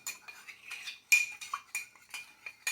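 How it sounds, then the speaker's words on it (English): A utensil stirs creamy chicken marsala sauce in a pan, giving irregular clinks and scrapes against the metal, close and fairly quiet. "Just stirring it around."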